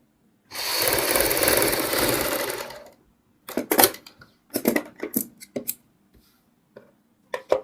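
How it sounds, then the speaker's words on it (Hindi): A sewing machine stitches down the center of a buckram-backed kurti neck: one steady, loud motor run of about two and a half seconds, followed by short bursts of handling and fabric movement. "सबसे पहले हम इसमें सेंटर की सिलाई लगाएंगे।"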